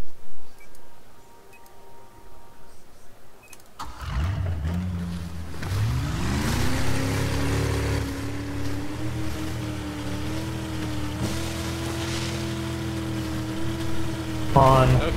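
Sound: motorboat engine in a video game

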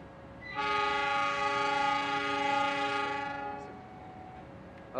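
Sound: Cikuray train departing from the station

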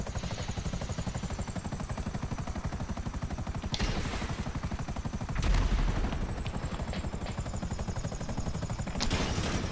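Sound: gunfire in video game GTA 5 Online

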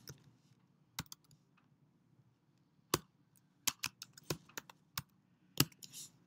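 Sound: typing text on a computer keyboard

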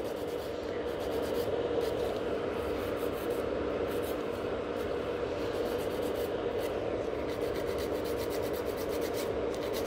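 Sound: filing underneath a gel nail

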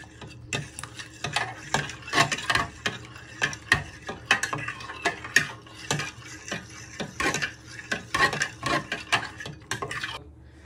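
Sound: stirring chilli pork casserole in a pan

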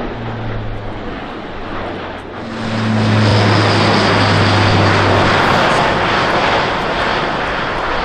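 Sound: Airbus A400M Atlas turboprop aircraft flying display

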